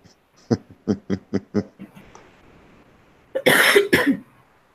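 A series of five or six quick, close coughs in a rhythmic burst, followed after a pause by a harsher, longer coughing fit.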